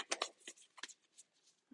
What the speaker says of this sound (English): One more shuffle, and then we will set up our spread.